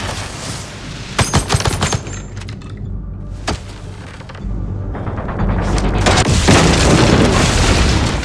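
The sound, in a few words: explosion from a triggered trap in a film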